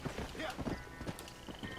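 Horse hooves clip-clopping across terrain in the Red Dead Redemption video game, a steady close rhythm of hoofbeats under ongoing game sound, with someone talking over it.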